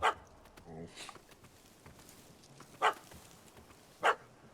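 A puppy barks in The Witcher 3, with a short yip at the start and two louder, sharp barks a few seconds apart over a quiet game-world background.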